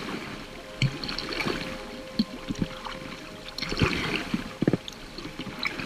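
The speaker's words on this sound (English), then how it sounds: "Here I am paddling the Marlborough Sounds on my Packraft." A packraft paddled on the water of the Marlborough Sounds, New Zealand, gives quiet irregular paddle splashes and drips over a soft steady background hiss, close and fairly faint, with no talking.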